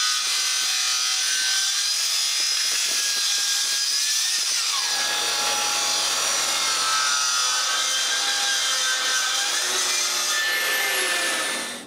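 A saw cuts 45-degree angles through wooden desk panels, a loud continuous power-tool whine with tonal shifts as the blade bites and eases, dropping briefly in pitch midway before rising again, with no talk.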